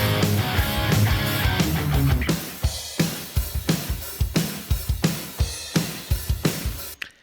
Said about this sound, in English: bombastic, massive rock drums, as you'll have heard.